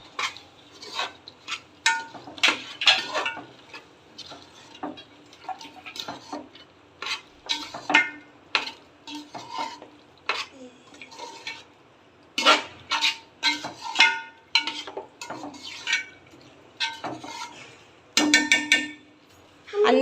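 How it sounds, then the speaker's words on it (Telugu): Spoon stirring mutton with curd and lemon juice in a pot, giving irregular scraping and clinking strokes close up with quiet pauses between them. "ఇప్పుడు ఇందులో పెరుగు, లెమన్ జ్యూస్, వీటిని బాగా మిక్స్ చేద్దామండి బాగా."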